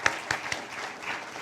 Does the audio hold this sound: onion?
no